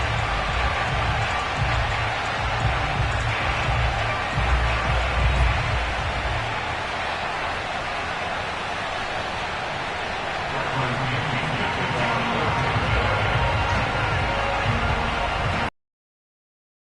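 A large Baltimore stadium crowd at M&T Bank Stadium roars steadily as the Ravens and Tampa Bay Buccaneers take the field, a dense, continuous wash of cheering that holds at a constant level throughout before cutting off abruptly.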